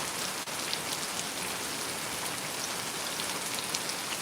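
Steady rain falls outdoors in Mississippi, a dense, even hiss of drops hitting surfaces with no break, close and moderately loud throughout, with no voices over it.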